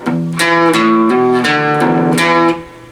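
A loud, distorted electric guitar riff of chugging, muted notes moving through a few pitches, ringing briefly before cutting off.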